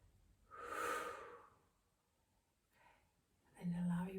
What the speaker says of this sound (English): And then breathe it out, just blow it away